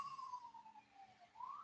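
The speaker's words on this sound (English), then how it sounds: "Sorry about the sirens, people." An emergency vehicle siren passing outside, heard faint and muffled as its long wailing tone sweeps down and then back up, with no talking.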